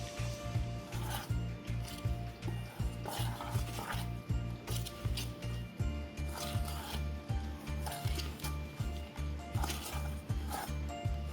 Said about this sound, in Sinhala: මොනහරි නම් මේ වගේ හැන්දින් කලවම් කරගන්න පුළුවන්.